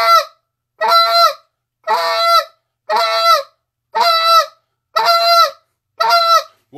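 Seven short, sharp spit-moan calls on a goose call, evenly spaced about once per second, loud and close with no other sound between them.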